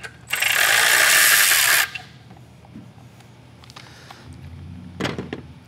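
A ratchet wrench works a nut loose on a 2007-or-later 6.7L Cummins diesel engine, beginning with a loud sustained burst of rapid clicking, then quieter scattered mechanical clicks and a short final rasp, close-up with no speech.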